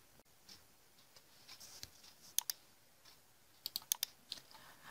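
A phone number is typed on a computer keyboard in quiet, scattered clicks, with a few sharper key taps clustered near the end and no talking.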